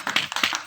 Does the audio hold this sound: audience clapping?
yes